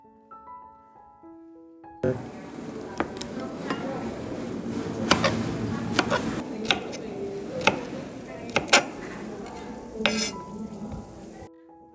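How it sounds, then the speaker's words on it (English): A knife minces garlic cloves on a cutting board in irregular sharp knocks, sounding close over a faint background sizzle, with a voice speaking over parts of it. "mince a few cloves of garlic."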